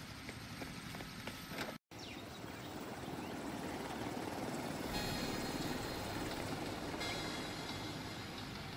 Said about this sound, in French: faire un petit tour d'hélicoptère